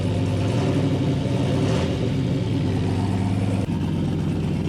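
A turbocharged LS V8 in a G-body Chevrolet Malibu runs loudly and steadily up close at first start-up, a rough raw idle with audible injectors and a slight rev partway through, no talking.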